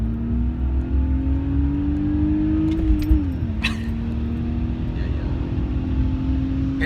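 A manual-transmission car accelerates hard, its engine drone rising steadily in pitch, briefly dropping at a gear change near the middle, then climbing again, loud and continuous from inside the cabin.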